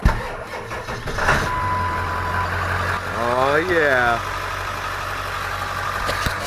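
A 7.3 diesel truck engine, fitted with a newly installed Hydra chip, cranks and fires up, then rises briefly in pitch before settling into a steady, rumbling idle close by, while someone speaks a short exclamation early on.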